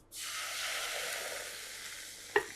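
A glass of water hits a hot pan of fried potato, eggplant and dried fish with a sudden loud sizzle that slowly settles into a steady hiss, followed by a short clink near the end.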